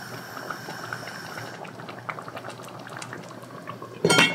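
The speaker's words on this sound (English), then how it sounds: "So let me get this up to a boil." Sweet potato chili bubbling in a pot as it comes to a boil: soft, continuous simmering with scattered small pops and blips, then a brief louder clatter at the end.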